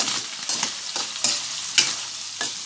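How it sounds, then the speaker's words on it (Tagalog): Food is stirred in a frying pan after pepper goes in, with a steady sizzle under a series of scraping strokes, about six distinct stirs spaced roughly half a second apart, close and clear with no talking. "Lagyan natin siya ng paminta. Saka natin halu-haluin."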